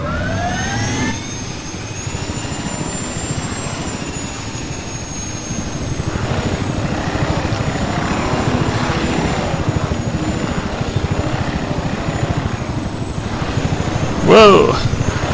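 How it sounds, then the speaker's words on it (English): A helicopter in the video game Desert Combat flies with a steady, loud rotor and turbine drone that stays continuous throughout, close and unbroken. "Get used to the helicopter again."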